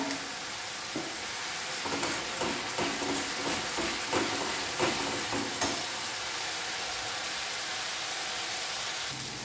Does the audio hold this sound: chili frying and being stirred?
yes